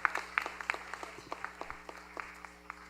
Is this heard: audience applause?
yes